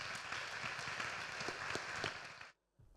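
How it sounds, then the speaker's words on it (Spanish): Audience at an education heritage congress applauding to welcome a performer to a hand-crank concert, a dense steady burst of clapping that stops abruptly near the end. "os pido que recibamos con un fuerte aplauso a Germán"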